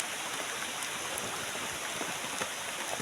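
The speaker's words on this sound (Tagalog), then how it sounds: "Lakas ng ulan." Heavy rain pours down by a small stream among rocks, a dense, steady hiss of falling water with scattered drops hitting close by, loud and unbroken, with no voices.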